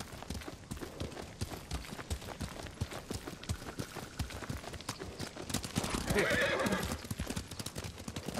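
A horse galloping under a rider in the video game Ghost of Tsushima, with steady rhythmic hoofbeats throughout and a louder whinny near the end.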